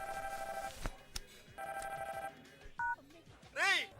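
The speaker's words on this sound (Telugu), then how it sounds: "ఫోన్ రింగ్ అవుతోంది" A telephone rings in repeated electronic trills, each burst separated by short gaps, followed by a brief beep and a rising warble at the end.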